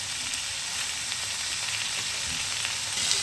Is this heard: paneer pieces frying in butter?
yes